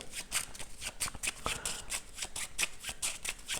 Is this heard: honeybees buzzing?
no